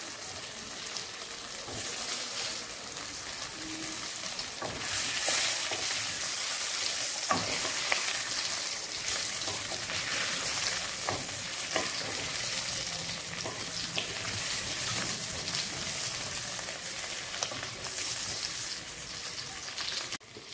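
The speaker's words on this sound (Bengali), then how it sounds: "দু টেবিল চামচ সর্ষের তেল দিলাম, দিয়ে আলুগুলোকে ভেজে নেব।" Half-boiled potatoes frying in two tablespoons of mustard oil, a steady rain-like sizzle with occasional clicks of stirring, close and constant for the full length, no talking.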